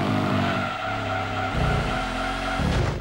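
Video-game race car in Gran Turismo 2 sliding sideways through a corner, a sustained tire squeal over steady engine drone, loud and continuous with shifts in pitch as the slide changes.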